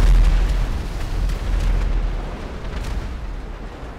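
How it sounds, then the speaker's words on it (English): An explosion in Grand Theft Auto 5, a loud deep boom that rolls out into a long rumbling decay and fades gradually over several seconds, with no voices. "we are going to be seeing just how big of an explosion we can"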